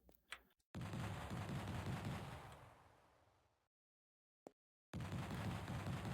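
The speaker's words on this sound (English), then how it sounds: "And there's bullets flying too." Gunfire in the DOS game Little Big Adventure 2: loud, harsh, noisy bursts of bullets that fade out, then a brief silence broken by a single sharp crack before the firing resumes.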